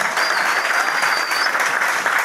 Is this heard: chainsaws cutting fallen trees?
no